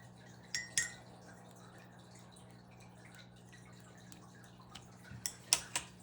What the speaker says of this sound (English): I'm going to take some clean water and I'm going to drop